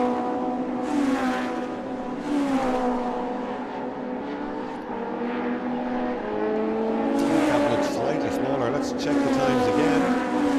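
Race cars pass through the esses at a circuit race meeting in the ICCR 2022 series, engines revving and shifting loudly as several cars sweep by in succession, under continuous commentary.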